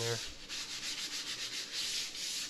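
Sandpaper rubs over plaster compound on an outside plaster corner, a quiet, steady scratchy hiss in quick repeated back-and-forth strokes, close by with no talking.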